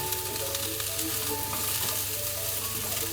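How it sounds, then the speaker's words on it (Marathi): Garlic, onion and ginger fry together in a pan with a loud, dense, continuous sizzle heard up close, alongside faint stirring scrapes and no talking. "लसूण, कांदा आणि अद्रक सर्व एकत्रच आपल्याला फ्राय करून घ्यायचे"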